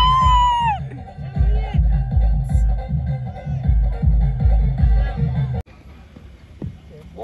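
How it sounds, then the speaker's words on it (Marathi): Crowd at a village cricket match cheering and shouting loudly in bursts, mixed with rhythmic chanting or drumming, before dropping off abruptly to a quieter murmur near the end. "फुल जल्लोष चालेल, फुल जल्लोष चालेल."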